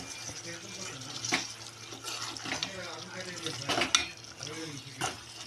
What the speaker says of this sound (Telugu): ఇప్పుడైతే నేను దీంట్లో కొంచెం వాటర్ వేస్తాను